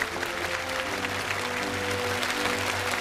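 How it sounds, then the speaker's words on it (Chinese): Studio audience applauding on a Chinese TV challenge show, a steady dense wash of clapping for the full three seconds with a low musical hum underneath and no talk. "所以想再一次给你们鼓掌"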